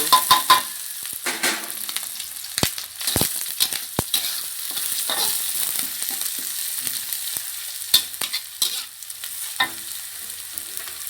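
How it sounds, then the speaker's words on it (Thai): Loud crackling sizzle of dried chilies and coarsely pounded garlic frying in a hot pan, with scattered sharp pops and scraping clicks throughout. "กระทะร้อนแล้วนะคะ พริกแห้งกระเทียมโขกหยาบใส่ลงไปเลย"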